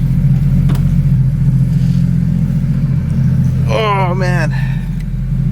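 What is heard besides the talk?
Porsche 911 GT3 RS Weissach engine revving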